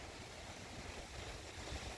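Wind blows steadily across the microphone, a constant soft rushing roar with low buffeting, and no voices.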